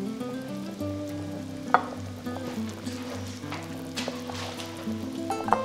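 Fried carrots go into a pot of simmering chicken ragout, bringing soft bubbling and gentle sizzling with a few clinks and stirring knocks over a low steady hum.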